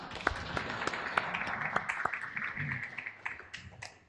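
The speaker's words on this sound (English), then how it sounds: "let's give them a round of applause for coming" Sparse, faint hand claps from a small audience at a Mid City West neighborhood council meeting, welcoming a panel of three city commissioners, a few people clapping in a loose, steady rhythm that thins out toward the end.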